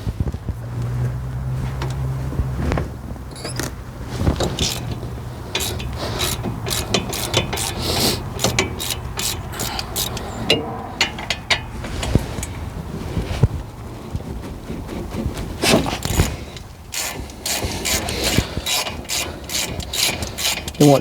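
A socket ratchet loosening the caliper bracket bolts on a Ford Ranger during hub bearing work, giving long runs of rapid clicking in repeated strokes with short pauses between them, close and clear over faint wind noise.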